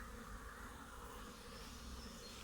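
A steady, dense insect buzz from many honeybees, continuous and fairly faint, with a low background rumble and no voices.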